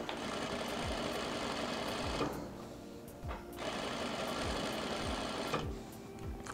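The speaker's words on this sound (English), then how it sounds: "Drop my foot, stabilize my threads, put in our back tack." A sewing machine stitches fabric in two long runs separated by a brief pause for a back tack, with a steady fast mechanical whir and a rhythmic knock close by.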